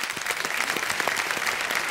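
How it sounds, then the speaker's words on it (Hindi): A studio audience on the KBC quiz show claps steadily for a contestant, a continuous and fairly loud round of applause throughout. "तालियां हो जाए इनके लिए एक बार।"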